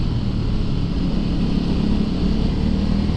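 A 2017 Ducati SuperSport motorcycle is ridden on the road, giving a dense, continuous engine and wind roar that stays loud and even throughout, with no voices.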